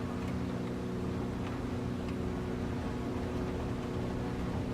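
Steady, droning aircraft engine roar in War Thunder, a fighter armed with .50 cals and 20 mm cannons accelerating down the runway, constant and loud with no talk.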